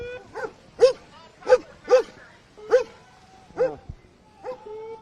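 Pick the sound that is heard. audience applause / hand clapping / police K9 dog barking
police K9 dog barking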